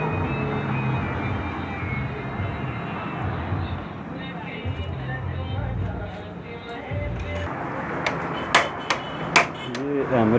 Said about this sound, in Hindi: ये हैमर पेचकस है